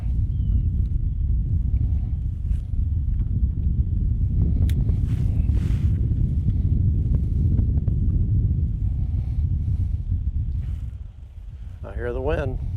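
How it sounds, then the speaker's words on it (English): Steady low wind rumbles and buffets across the microphone outdoors by the water while fishing, loud and continuous with a few faint clicks and a short voice near the end. "I hear the wind."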